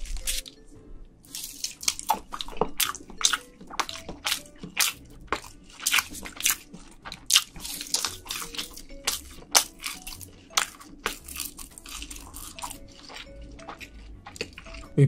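Close, crisp wet chewing and squishing of red snow crab meat, with frequent sharp crunchy bites and drippy sounds repeating steadily throughout, no talking.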